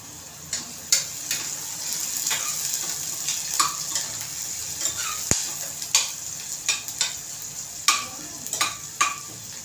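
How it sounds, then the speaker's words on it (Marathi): Onion fries in a pan for masala rice, with a soft steady sizzle broken by repeated scraping, stirring clicks of a spoon against the pan, fairly close and quiet. "आपल्याला चांगला कांदा लाल करायचा।"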